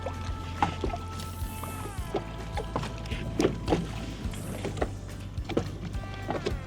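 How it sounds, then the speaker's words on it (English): An electric trolling motor turned down low on a fishing boat on Grenada Lake hums quietly and steadily, with occasional knocks, clicks and small water sounds around it. "That trolling motor turned way down, trying not to spook his fish."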